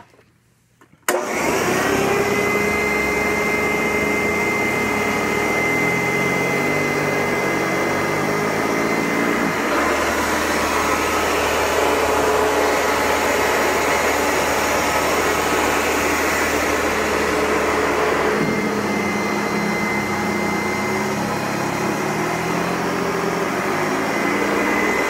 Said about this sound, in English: That vacuum is walking by itself.